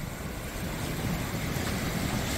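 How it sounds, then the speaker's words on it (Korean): Sea waves wash onto a muddy tidal shore, a steady soft rushing roar mixed with wind buffeting the microphone. "파도."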